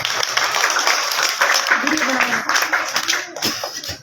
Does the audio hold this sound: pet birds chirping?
no